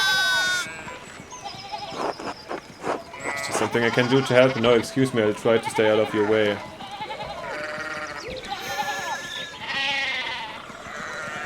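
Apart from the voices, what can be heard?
sheep bleating in the video game Pentiment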